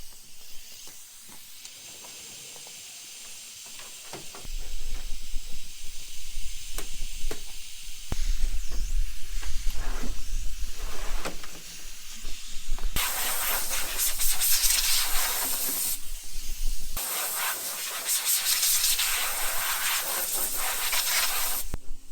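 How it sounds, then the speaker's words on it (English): Compressed air blasts through a John Deere tractor's radiator and air filters, a loud rushing hiss in long bursts with pauses, strongest in two sustained blasts toward the end, over a low engine-like rumble. "I'm going to blow out the radiator and air filters"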